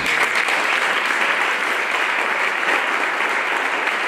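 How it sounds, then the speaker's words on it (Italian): Loud, dense applause from an audience at the close of an evening solidarity celebration in Nicosia, steady and sustained from start to end. "La serata si è conclusa con un fragoroso applauso"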